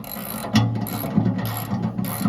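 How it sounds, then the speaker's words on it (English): A ratchet with a 19mm socket turns bolts on a tooth bar, giving quick repeated clicking pawl ratchets in short bursts, close up with no talk. "Using a 19mm socket, I didn't have to use a torque head on these"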